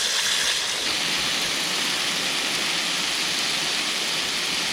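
Water pours steadily into a potato bucket, soaking the soil with a continuous close hiss and splash that holds constant throughout.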